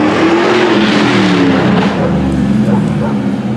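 A car engine revving and accelerating nearby after a fresh brake job while the new brakes are set, a loud continuous roar rising and falling, with a voice talking over it.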